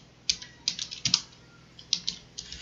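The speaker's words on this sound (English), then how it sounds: "Okay, so I'm going to type in laundry" Keys clatter on a computer keyboard as a file name is typed in a design program, quiet close clicks in short irregular bursts.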